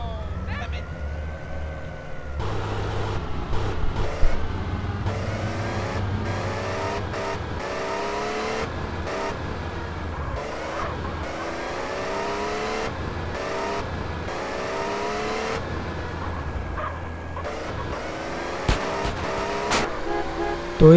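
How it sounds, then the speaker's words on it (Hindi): Car in GTA San Andreas, engine revving loud and close, its pitch climbing and dropping through several gear-like sweeps over a steady drive. "तो यहाँ से गाड़ी लेते हैं"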